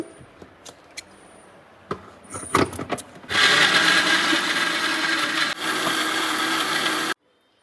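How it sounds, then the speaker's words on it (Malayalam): An electric kitchen mixer grinder whirs loudly for about four seconds as it blends a masala paste for whole chicken shawaya, with a brief dip in the middle, after some clatter of lid and jar being set in place. "മിക്സിയിൽ വെച്ചിട്ട്"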